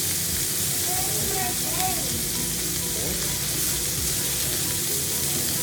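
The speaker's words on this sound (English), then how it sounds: "Nice, beautiful sear on our steak." A steak sears in a hot cast iron skillet, making a loud, steady sizzle and hiss close by, while people talk quietly underneath.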